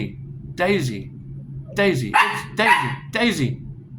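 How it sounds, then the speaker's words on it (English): A dog barks sharply four times, close and loud, with short pauses between the barks over a quiet low hum. "Quit barking."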